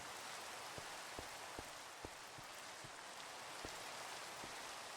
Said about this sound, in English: That's so rainy.